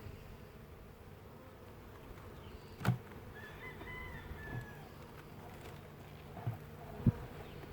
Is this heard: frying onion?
no